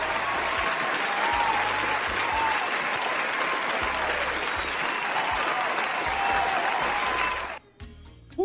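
Applause from a soundboard meme effect during a Twitch stream: dense, sustained clapping and crowd noise, loud and continuous for about seven and a half seconds before it cuts off abruptly.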